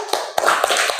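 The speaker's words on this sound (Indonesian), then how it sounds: "Tepuk tangan buat kelompok 3." Several quick, loud claps from a classroom group of students, close and roughly evenly spaced over about a second.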